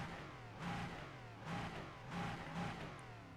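Race car engine in iRacing, a Porsche, Ligier or Cadillac LMP prototype, droning at moderate distance with repeated swells as revs rise and fall through gear changes.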